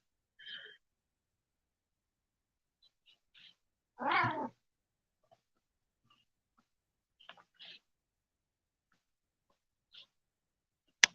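A single clear meow from a cat mid-clip, with a few faint short chirps and rustles scattered around it in an otherwise quiet room.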